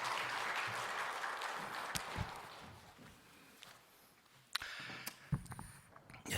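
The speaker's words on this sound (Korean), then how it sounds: "박수로 한번 맞이하십시다." An audience at a church teachers' and shepherds' ministry seminar applauds to welcome a pastor, with a burst of clapping that thins out over a few seconds, followed by scattered knocks and shuffling.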